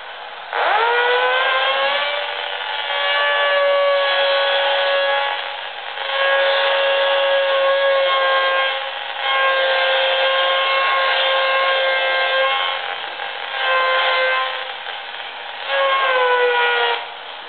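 An EMI detector picks up the field of a child's electric toothbrush, giving a steady, buzzy harmonic tone with slight pitch wavers that runs almost continuously, dipping briefly a few times.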